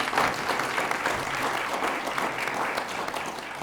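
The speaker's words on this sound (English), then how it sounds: "let's give them all a round of applause" Sustained applause from an audience at a county commission candidate forum, a dense, steady wash of many hands clapping at even loudness throughout, with no speech over it.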